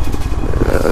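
A Royal Enfield motorcycle engine runs steadily with a low, throbbing rumble and some rattling clatter over patchy, potholed roads, close by and continuous throughout.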